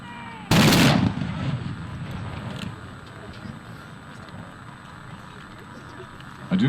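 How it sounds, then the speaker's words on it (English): A matchlock gun fires at a samurai festival in Melbourne, its gunpowder lit by smouldering rope. One loud, sharp blast rings out, followed by a rumbling tail and crowd noise outdoors. "The smouldering ropes were used to ignite the pan, which would cause an explosion within inside the gun."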